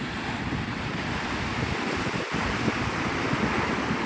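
Gulf of Mexico surf at Navarre Beach, Florida, a continuous loud rushing wash of breaking waves mixed with gusty wind buffeting the microphone, with no talking.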